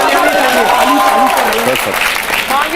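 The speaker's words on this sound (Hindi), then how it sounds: "बजा दो यार ताली इनके लिए, बेटे बजाओ।" An audience claps in a steady, continuous wash of applause while someone talks loudly over it throughout.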